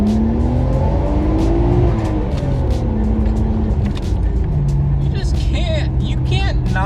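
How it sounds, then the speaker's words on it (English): A 1991 Nissan Skyline GTR engine pulling hard at full throttle, a loud sustained roar with rising pitch sweeps through the gears, heard from inside the car with a voice talking over it. "You can't not put your foot to the floor every time you accelerate when you're driving this car."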